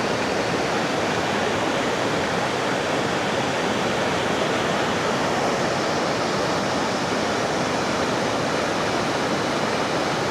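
Iguazu Falls thunders at Devil's Throat in Brazil, a massive waterfall producing a loud, steady, dense roar that stays unbroken and close throughout.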